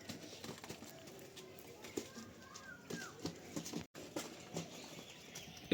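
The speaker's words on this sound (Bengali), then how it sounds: "আর এইখানে দেখুন একটা পিলং পায়রা" Pigeons in a home loft flutter and shuffle, with soft cooing and scattered wing flaps and pecking taps, faint and close by in a quiet space.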